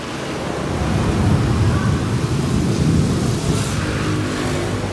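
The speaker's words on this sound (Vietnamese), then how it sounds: "mưa to lắm ông bà ơi" Heavy downpour sheltering under a bridge on a year-end trip through Đồng Tháp in the Mekong Delta: a loud, steady roar of rain with low rumbling that fits thunder and a passing vehicle, continuous throughout with no speech.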